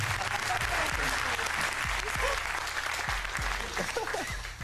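Sustained applause from a game show studio audience on Deal or No Deal, steady and dense throughout, with some voices and cheers mixed in underneath.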